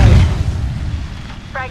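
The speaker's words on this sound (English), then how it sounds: "Throwing thermite grenade." A thermite grenade thrown in the shooter game Apex Legends gives a deep, short boom at the start, then fades into a low rumble with a faint bright tone near the end.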